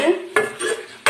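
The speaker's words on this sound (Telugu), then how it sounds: "కరివేపాకు అన్నీ వేసి ఫ్రై చేస్తున్నాను" Onions, green chillies, garlic paste and curry leaves are stirred in a frying pan, with a utensil scraping and clinking against the metal in quick close strokes over a faint sizzle.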